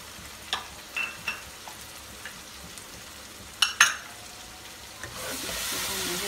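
Ginger-garlic paste and whole spices fry in a pan for a biryani, with light sizzling, a few sharp clinks of stirring near the middle and a louder, steady hiss building toward the end.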